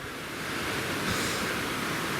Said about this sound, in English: I'm sitting next to this really pretty, fast-flowing brook.